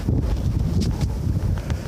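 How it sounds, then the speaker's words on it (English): Heavy wind buffets the microphone at an outdoor skating event in a continuous low roar, loud and close, with gusty surges throughout and no other sounds standing out. "It's windy out here."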